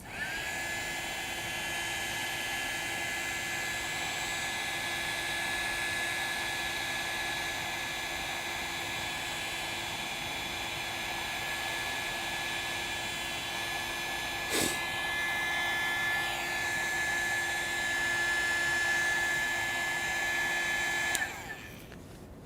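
A hair dryer blowing over a wet acrylic landscape painting, a steady whirring hum with an even airy hiss held for about twenty seconds before it cuts off.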